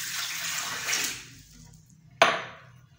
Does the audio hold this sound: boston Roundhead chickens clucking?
no